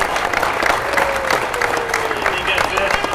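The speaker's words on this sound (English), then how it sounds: "Let's give another round of applause for Molly." An audience applauds in a dense, continuous wash of clapping, with a voice audible over it.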